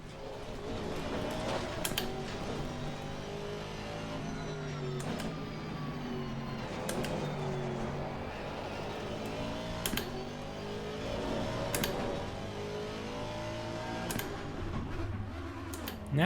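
Aston Martin GT3 race car in Assetto Corsa Competizione, engine howling steadily through a lap with rising and falling pitch sweeps, crisp gear-shift clicks at intervals and a fairly constant, close, moderate loudness.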